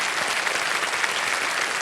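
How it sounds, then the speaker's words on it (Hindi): A studio audience on the quiz show Kaun Banega Crorepati claps steadily, a dense, even wash of applause filling the whole moment. "तालियां बज जाए इनके लिए।"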